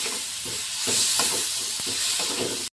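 Thickly cut tomatoes are added to a frying pan for stuffed bell pepper curry and stirred, a steady hiss of sizzling oil under repeated scraping strokes of the spoon, close and continuous throughout.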